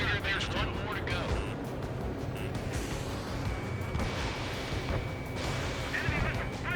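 Missile launches and explosions in the Ace Combat 7 flight combat game, a dense, continuous roar of blasts and bursts mixed under radio chatter and music throughout.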